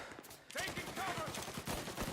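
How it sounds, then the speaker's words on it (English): Full-auto gunfire in the video game Mafia: Definitive Edition, a dense rattle of rapid shots that bursts in after a brief lull and keeps up, fairly faint, with a voice talking over it. "I'm hearing all this gunfire, yet seeing so little people."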